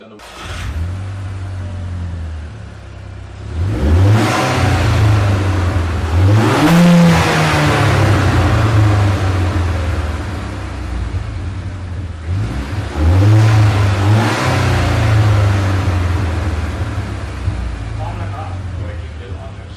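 Two bursts of a turbocharged Audi TT engine revving hard with the bonnet closed, each climbing then settling to a steady idle, with a voice briefly heard between them.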